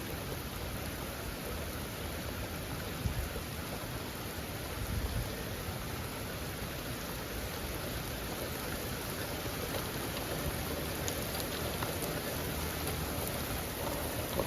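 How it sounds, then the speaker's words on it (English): Heavy rain from an intense pop-up thunderstorm pours down in a dense, unbroken hiss, loud and constant, with a faint low rumble briefly swelling midway. "this storm is pretty intense. This is just a pop-up storm too"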